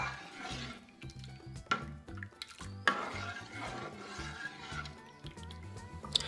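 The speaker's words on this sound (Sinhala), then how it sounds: "මේ මිශ්‍රණය කැටි ගහන්නේ නැති වෙන්න දිගටම හැඳි ගන්න." A spoon stirs a thickening masket mixture of cornflour and sugar in a pot. It makes soft scraping and sloshing with occasional clinks against the metal, close and fairly quiet, with no talk.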